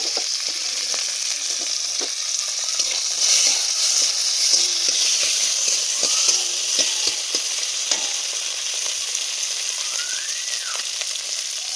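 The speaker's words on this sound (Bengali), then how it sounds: "এবার ভাত করেলার যে বীজগুলো এগুলোকে ভেজে নেবে।" Bitter gourd seeds with nigella seeds fry in a hot pan, a steady loud sizzle running throughout with scattered soft pops and occasional scrapes of stirring.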